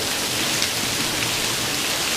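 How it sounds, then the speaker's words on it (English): Heavy rain from Tropical Storm Hermine pours down outdoors in a steady, dense, loud hiss with no break. "it is coming down. Probably the hardest rain I've seen"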